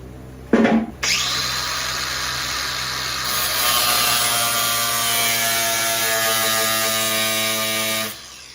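Power tool grinding a vertical slot into the head of an Allen bolt while fitting a front splitter on a Lotus Emira: a brief start, then a continuous high whine that rises slightly as it cuts and stops abruptly.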